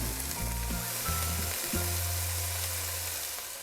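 Steak bites searing in a hot skillet, a loud, steady close sizzle filling the whole stretch, with a low hum running beneath and a few soft knocks.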